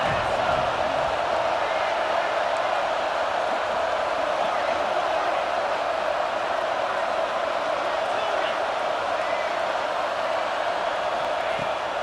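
A home crowd at a USC college football video game roars steadily on third down, forming a dense, unbroken wash of cheering under a commentator's voice.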